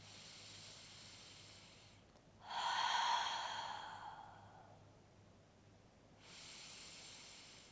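Quiet breathing during a Pilates ball roll-out for deep core work: a long, airy exhale that rises and slowly fades, followed by another soft breath starting, close and alone.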